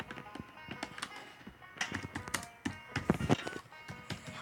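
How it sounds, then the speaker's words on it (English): Rapid typing on a computer keyboard, close by, with irregular bursts of sharp key clicks and taps that thicken into busier clatter midway; no speech. "Put the phone next to me so they can hear my typing."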